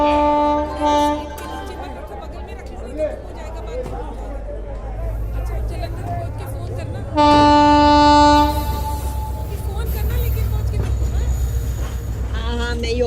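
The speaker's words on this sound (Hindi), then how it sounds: "रवाना होने वाली गाड़ी संख्या 1401 होशियारपुर एक्सप्रेस प्लेटफॉर्म क्रमांक 2 पर आ रही है।" An express train pulls into a station platform in India, its loud horn sounding in two blasts amid steady rumbling and platform crowd noise, with people talking throughout.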